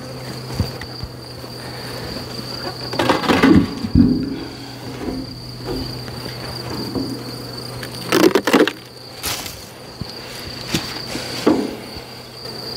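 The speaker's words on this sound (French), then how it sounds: "encore un nid de guêpes là" Wasps buzzing around a nest built inside a beehive, with a steady, close insect drone broken by occasional knocks and handling bumps against the wooden hive.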